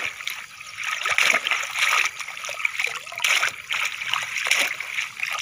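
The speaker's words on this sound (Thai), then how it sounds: "ล้างจักหน่อยก่อนเอาขี้ดินออก" A frog trap is swished and rinsed in water to wash off mud, with repeated splashes and sloshing trickles in a steady rhythm, close by, outdoors at a rice field at dawn.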